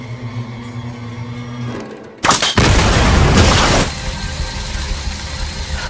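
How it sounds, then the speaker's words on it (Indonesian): An explosion in The Walking Dead season 11 erupts suddenly from a low hum into a loud, roaring blast that lasts about a second and a half, then settles into a lingering rumble. "Dengan ledakan yang telah mereka siapkan, Maggie dan kawan-kawan pun berencana untuk langsung menyerang"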